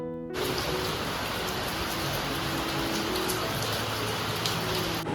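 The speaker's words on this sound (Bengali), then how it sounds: "দেখি বাইরে পড়ছে ঝমঝমিয়ে বৃষ্টি" Heavy rain pours steadily in Kolkata, a dense, constant hiss of drops drumming on surfaces with no letup.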